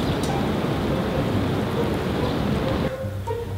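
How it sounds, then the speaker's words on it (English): Heavy rain pours steadily with a rolling rumble of thunder, a dense continuous wash that eases slightly near the end, with no talking. "hey, it's raining now"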